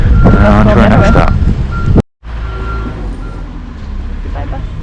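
A departing bus sounds steady, repeated reversing beeps over engine rumble and wind noise at a mountain stop, then a brief dropout, after which a quieter engine drone continues; voices talk at the start.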